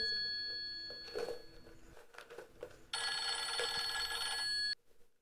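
An electronic telephone ring trills steadily for a couple of seconds, then cuts off abruptly, following some faint handling noise.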